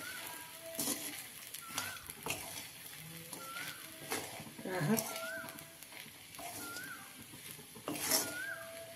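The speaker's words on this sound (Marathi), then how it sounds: "आता सगळं सारखं आपण मिसळून घेऊ छान." Potato sabudana khichdi with green chili being stirred in a pan, a spoon scraping and clinking softly against the metal at an unhurried pace, with light sizzling beneath.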